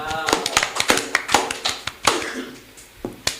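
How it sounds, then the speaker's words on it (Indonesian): Sparse, close hand claps from a small group in a classroom, distinct separate slaps with pauses between them and faint voices in the background. "Ya, boleh tepuk tangan."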